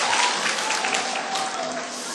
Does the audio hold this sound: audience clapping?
yes